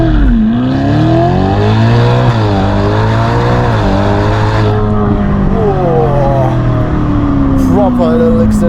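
Novitec-tuned 704 hp Ferrari Roma accelerating hard through its automatic gearbox, the loud exhaust rising in pitch with each quick upshift and holding a steady near roar for several seconds, with someone talking over it.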